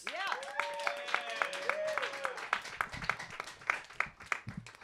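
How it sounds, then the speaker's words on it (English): An audience at a comedy roast battle claps in a scattered, building burst, with a voice talking loudly over the start of the applause. "Start clapping right now for Shannon Harris."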